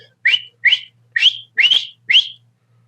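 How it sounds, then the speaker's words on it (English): Five short human whistles, close and clear, evenly spaced with brief pauses between them and no talking. "if you can just do a little short whistle"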